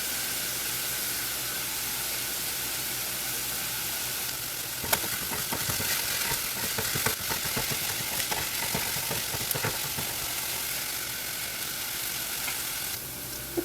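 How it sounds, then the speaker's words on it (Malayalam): Salted onions sauté in a pan for Indian-style masala pasta, with a steady, close sizzle throughout. Clattering stirring strokes join in from the middle onward. "ഇപ്പോൾ സവാള വഴന്ന് വന്നിട്ടുണ്ട്"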